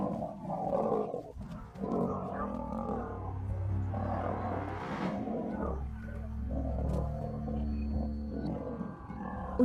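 Wild lions fight in the Sabi Sand bush, letting out deep, rumbling roars and snarling growls in overlapping bursts, loud and close, with no talking over them.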